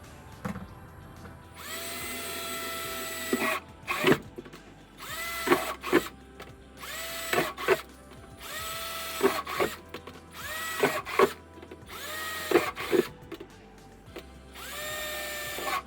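A cordless drill bores holes in garden tubs in repeated short bursts, its motor whining up and down with brief pauses between holes, close by and fairly loud.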